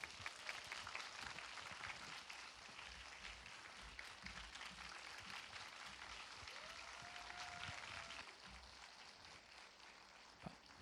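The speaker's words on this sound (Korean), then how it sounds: "큰 박수로 앞으로 모시겠습니다" A church audience claps steadily to welcome a pastor to the stage, a dense, even wash of applause that holds for several seconds before thinning near the end.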